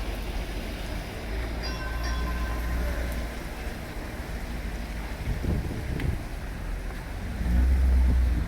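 A Toronto streetcar turns at a downtown street corner during a snowstorm, giving a steady low rumble with faint squeal and clatter of wheels on rails, heard from nearby alongside wind.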